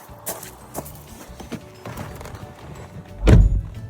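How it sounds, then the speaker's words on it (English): A single heavy thunk marks the door of a 2014-onwards Land Rover Freelander 2 shutting close by, preceded by a few lighter clicks and handling noises. "Close the door."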